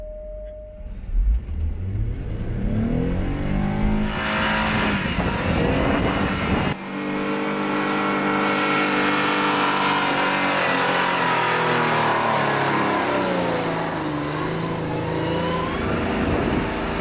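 A vehicle engine held in third gear revs hard while climbing through deep sand in the desert, a loud sustained roar rising and falling in pitch, briefly dipping before surging again.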